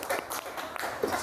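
A class claps for a group after its presentation, a short, moderately quiet patter of applause from a room of people.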